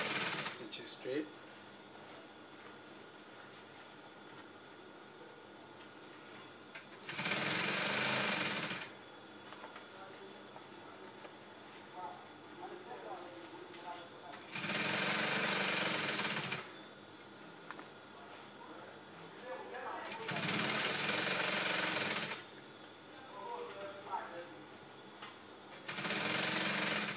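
A sewing machine stitches a high bended Yoruba cap in three separate bursts, each lasting about two seconds, with quiet room tone between the runs.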